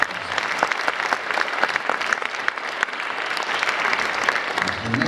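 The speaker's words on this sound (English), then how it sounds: "Please, guys, give us a round of applause." Steady audience applause at a jazz camp band concert, a dense wash of many hands clapping continuously for the whole stretch with no speech over it.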